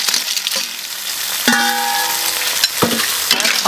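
A large batch of seafood stir-fried in a wok: loud, close sizzling with scraping and clattering strokes from stirring, with no talking.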